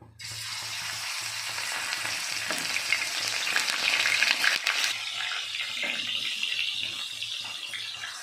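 Fish frying in hot oil in a clay pot, a loud continuous sizzling hiss that fills the whole stretch, bursting up after the first instant and staying strong and even, with no voices.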